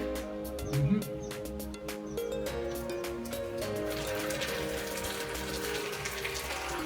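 Workers pour water onto concrete at a building site in Ghana where first-floor pillars and decking are going up, a steady splashing and trickling that runs on after a brief louder gush near the start.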